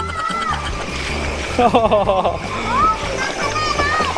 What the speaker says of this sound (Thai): วันนี้เราเอารถบิ๊กฟุตมาลุยน้ำท่วมกันครับ